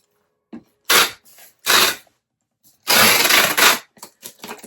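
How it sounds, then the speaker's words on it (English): A plastic bag being squished flat, with a seal-costumed toy inside, gives several loud crinkling bursts of rustling plastic at close range, separated by brief quiet gaps. "We'll flip him over. Squishing the air out the bag."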